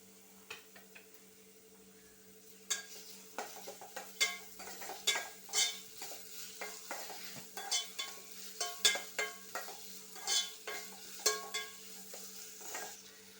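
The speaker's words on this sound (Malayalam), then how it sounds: "സവാള ഒന്ന് ബ്രൗൺ നിറമാകുന്നത് വരെ ഒന്ന് ഇളക്കി കൊടുക്കാം" Chopped onions fry in a pan under a soft sizzle while a spoon stirs them in quick repeated scrapes and taps that grow busier after the first few seconds.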